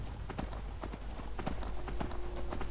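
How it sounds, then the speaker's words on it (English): Horse hooves clip-clop in a steady riding rhythm in the video game Skyrim, quiet and continuous with faint background ambience and no talk. "I wanted a horse. Giddy up, pony."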